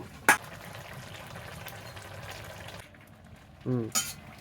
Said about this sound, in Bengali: এবার আমি ভেজে রাখা বেগুনগুলো দিয়ে দেব এবার আমি ভেজে রাখা মাছগুলোও দিয়ে দেব